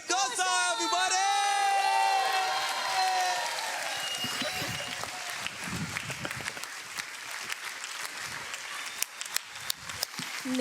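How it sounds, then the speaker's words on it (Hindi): Loud audience applause and cheering welcome a contestant onto the stage of a Hindi TV kids' show, starting over a swelling musical sting, then settling into sustained clapping with scattered sharp claps as a voice speaks over it. "जोरदार तालियों के साथ हमारे बीच में आ रही है हमारी ड्रामा क्वीन पिकासा।"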